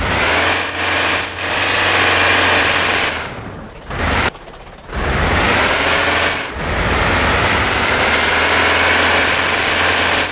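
A Volvo B9R bus in Bus Simulator lets out loud hand-brake air hisses over a steady idling engine, with a brief drop to near quiet in the middle before the hiss and engine rumble return.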